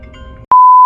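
A single steady electronic tone sounds on a phone during a call attempt, clear and loud for about half a second after a stretch of low background noise, with nobody talking.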